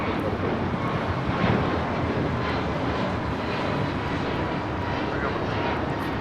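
An American Airlines Airbus A321neo on its takeoff roll at Los Angeles, a steady loud broadband jet roar holding level for several seconds with some wind buffeting on the microphone and faint voices underneath.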